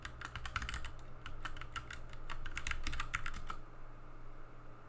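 Quick keystrokes on a computer keyboard as a password is entered during a software install on Ubuntu 24.04, a rapid irregular clatter of close key taps for about three and a half seconds, then a quiet hum with no talking.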